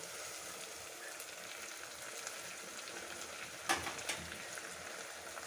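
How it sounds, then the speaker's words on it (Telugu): Washed mint leaves fry in a pan for a Rayalaseema-style liver curry, with a faint, steady sizzle throughout and a single brief louder stir or clatter near the end. "అయితే కడిగి పెట్టుకున్న పుదీనా వేసి వేయించుకోవాలి"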